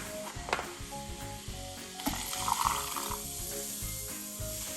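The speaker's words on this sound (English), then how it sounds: "Then you will add in the salt, the Sprite, and the soda." Soda and Sprite poured into a salted lemon drink fizz with a steady bubbling hiss, joined by faint clinks and stirring taps, close up and without voices.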